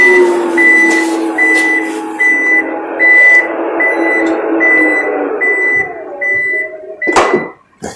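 A fourth-generation Toyota RAV4 2.5 4WD power tailgate moves under a loud steady motor whine, with a regular warning beep repeating about twice a second, then a heavy thud as it latches near the end.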